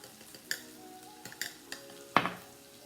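A spoon stirs curry powder into coconut milk in a cup, making a few light clinks and scrapes against the sides, ending with one louder knock near the end.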